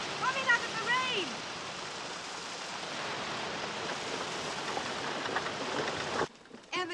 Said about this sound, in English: Come in out of the rain!